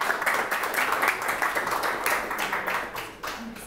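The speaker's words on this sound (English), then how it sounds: "Big round of applause, everyone." Sustained applause from a crowd, dense rapid clapping at a steady level throughout, moderately distant.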